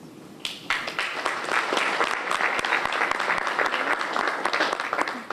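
Lively applause fills the room at a student opening banquet, starting up abruptly and staying loud and dense, with several sharp individual claps standing out close by amid the many hands.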